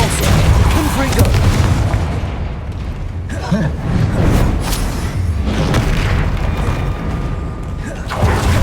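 Blasting spell explosion in the Hogwarts Legacy video game, heavy low booms and bursts repeating through a dense wash of combat effects, loud and close throughout.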